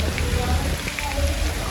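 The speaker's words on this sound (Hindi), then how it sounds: "फिर बारिश आई है तेज" Heavy rain falls steadily, a dense, close hiss of drops striking surfaces that continues without a break, with a voice talking under the downpour.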